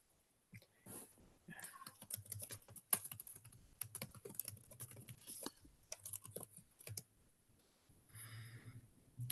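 Computer keyboard typing while an accessed-on date is entered, bursts of quick clicky keystrokes with short pauses between, close and fairly quiet, with no talking.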